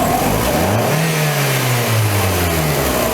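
A Fiat Línea 1.8 E-torq engine rises in a steady rev from idle, its tone climbing and holding high before easing back, heard close and loud with no talking.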